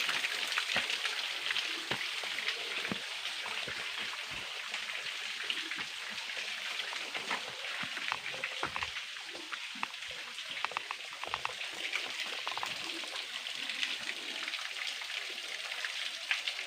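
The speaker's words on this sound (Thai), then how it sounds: "ดูดูฝนครับในนี้แล้ว" Steady rain patters and hisses on a surface, a dense crackling wash with scattered louder drops, continuous and fairly close.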